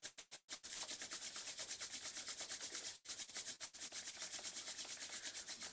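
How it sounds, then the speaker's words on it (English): Palms rub briskly together during a yoga session, a soft continuous swishing friction close to the listener, with a couple of brief breaks near the start and one around the middle. "Rub the palms."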